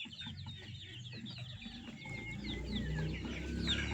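Roosters and hens on the Kottathara poultry farm cluck and chatter in overlapping calls, a busy but fairly quiet flock with no talking.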